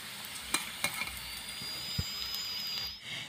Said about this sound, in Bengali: আলুর চপ আমি খুব সুন্দরভাবে ভেজে নিয়েছি, এবার তুলে নিব।